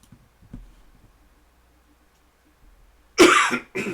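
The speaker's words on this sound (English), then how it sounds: "I had to clear my throat." After a mostly quiet stretch with faint low noises, a person clears their throat loudly up close in two rough bursts.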